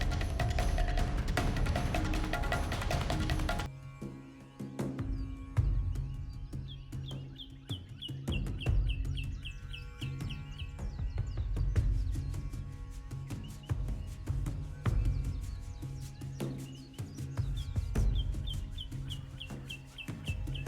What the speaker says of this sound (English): that's the alarm call of langur